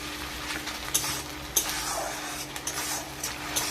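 Onion paste and ginger-garlic paste sautéing in oil in a pan, soft steady sizzle with a spoon scraping and clinking against the pan now and then, close and fairly quiet.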